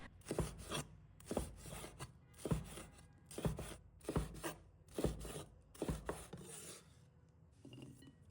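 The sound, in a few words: chopping red chilli pepper into small pieces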